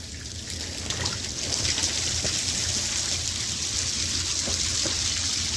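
Rainwater flows through rain chains clogged with leaves during a Florida June, giving a steady, close splashing trickle that builds slightly and then runs on without a break.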